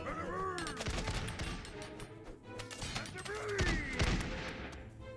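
Rapid volleys of gunfire from kings shooting all at once in the Totally Accurate Battle Simulator video game, dense overlapping cracks and crashes continuing throughout under a busy battle mix.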